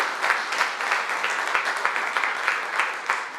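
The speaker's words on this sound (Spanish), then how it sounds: "Démosle un aplauso fuerte a todas las personas que nos acompañan hoy." Warm applause from a church congregation during a Spanish-language service, a continuous, fairly loud wash of many hands clapping.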